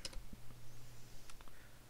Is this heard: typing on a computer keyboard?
yes